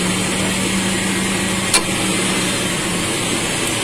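Car engine idling with one battery terminal disconnected while running, a steady even hum with a single brief click partway through, no speech.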